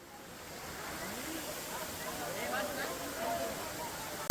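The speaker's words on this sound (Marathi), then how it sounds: "लोणावळ्यामध्ये फिरताना आपल्याला भेटला एक वॉटरफॉल, नाव आहे माऊ वॉटरफॉल" The Mau waterfall in Lonavala sends up a steady, broad rushing roar that swells slightly and holds, with a voice talking over it.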